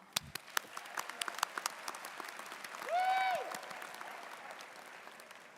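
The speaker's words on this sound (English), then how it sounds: "Let's give ourselves a big round of applause." Graduation ceremony crowd applauding with scattered sharp claps, a steady moderate wash of clapping lasting several seconds; a brief tonal squeal rises and falls in the middle.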